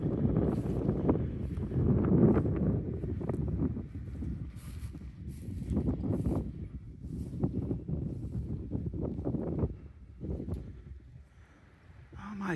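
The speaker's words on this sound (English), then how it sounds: "It's very, very windy." Strong wind buffets the microphone in an open field near a combine harvester, a steady loud roar with gusts rising and falling throughout and no clear talk.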